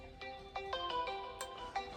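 A phone ringtone plays in a repeating melodic pattern of short bright notes, clear and fairly close, with no voices over it.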